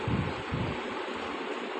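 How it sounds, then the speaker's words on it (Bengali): Strong storm wind buffets the microphone in a continuous rushing, rumbling roar, gustier at first and then steadier throughout. "বাতাসটা আমাকে উড়ে"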